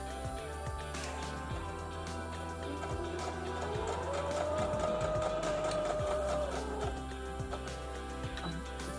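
Sewing machine back stitching a seam on a boxy zipper pouch, running as a steady, continuous mechanical hum and rapid ticking stitch rhythm throughout, close and alone without speech.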